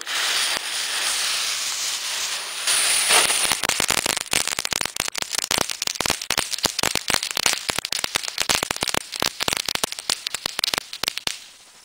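Gruselfeuer firecrackers set off in a cellar: an initial hissing fuse gives way to a dense, rapid string of sharp crackling pops echoing in the enclosed space, loud and close, then stopping abruptly.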